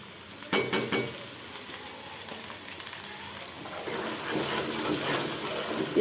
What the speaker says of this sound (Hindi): अब हम इसमें डालेंगे अपना कटा हुआ लहसुन और अदरक।